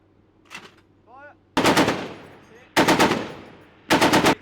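Machine gun fired aboard the aircraft carrier HMS Prince of Wales: after faint voices and a brief whistle-like sound, three loud rapid bursts of automatic fire ring out, each a tight cluster of shots with echoing tails.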